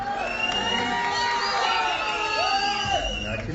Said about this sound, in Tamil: ரசிகர்கள் விசில் அடித்து ஆரவாரம் செய்தனர்